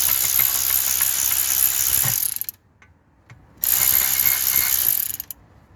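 A ratchet clicks rapidly and continuously while snugging the brake bolts on a Rover 45, close by, stopping for about a second before another burst of clicking.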